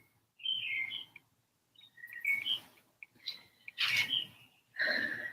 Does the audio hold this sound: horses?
no